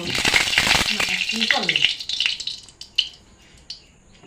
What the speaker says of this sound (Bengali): কড়াইটা গরম হয়ে গেছে এখন আমি তেলটা ঢেলে দেব